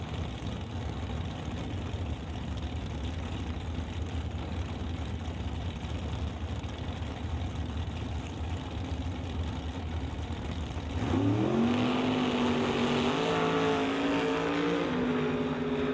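Doorslammer drag racing cars, among them a silver Cutlass, sit at the starting line at a Canada West elimination event. A dense, steady engine roar builds into a sudden louder revving surge as they launch, heard from a moderate distance.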